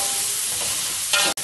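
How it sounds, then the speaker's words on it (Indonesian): Food fries in hot oil in a pan while cooking chicken with long beans, a steady close sizzling hiss with a brief louder stir or burst near the end. "Kita goreng."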